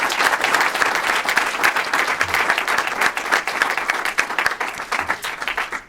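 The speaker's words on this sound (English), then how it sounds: "Let me ask you for a round of applause for our panelists." Audience at an angel, venture capital and private equity investors workshop gives the panelists a dense, steady round of applause that rolls on loudly for several seconds and tapers slightly at the end.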